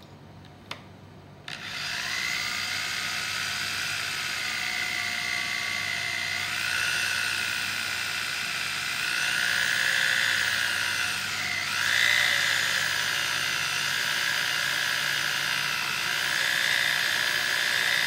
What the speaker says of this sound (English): Okay, so we continue to drill now.